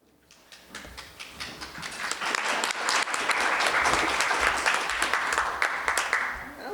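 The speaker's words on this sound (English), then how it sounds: "I wasn't expecting applause, but I appreciate it" Audience applause at a keynote session of Alachua County's 200th anniversary event: dense clapping builds quickly and holds loud and steady for several seconds, then eases slightly near the end, with no talking.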